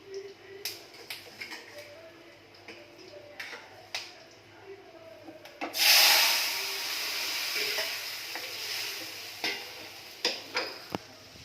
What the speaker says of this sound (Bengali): ডালটাও সাঁতলিয়ে দেবো, তারপরে ডালগুলো দিয়ে দিই।